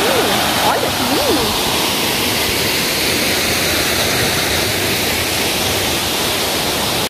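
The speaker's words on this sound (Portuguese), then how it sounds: "aparentemente uns 10 metros mesmo a queda da água" A waterfall of about a 10 metre drop at Águas da Prata roars in a loud, constant rush for the whole stretch, with no talking.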